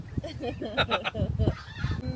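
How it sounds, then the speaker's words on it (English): Goose honking outdoors, a few nasal honks close by mixed in with people talking during a live interview. "We're interrupted by a goose."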